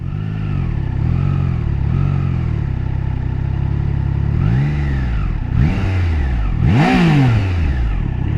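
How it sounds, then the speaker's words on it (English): A Triumph Trident 660 motorcycle engine revs in sharp, rising blips during downshifts, loud and close, with a steady idle drone between the surges and a final higher rev near the end. "I will say this fly-by-wire is pretty hard to downshift."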